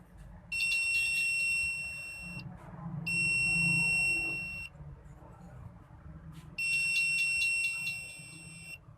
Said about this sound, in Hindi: बजर को हमने गौर से सुनना है